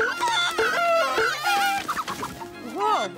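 A cartoon chicken clucks and squawks in a run of rapid, warbling cries, loud and close, mixed with bright animated character vocal sounds.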